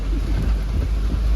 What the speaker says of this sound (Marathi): लय खत्री पाऊस चालू झालेला आहे